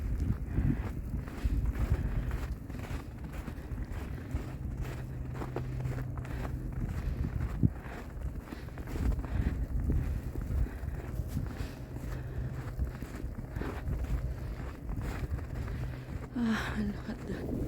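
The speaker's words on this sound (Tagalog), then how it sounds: "It's windy. It's windy." Wind blows during an April snowstorm in Winnipeg, a steady rushing roar with gusty buffeting on the microphone and faint crunching steps, close and moderately loud throughout.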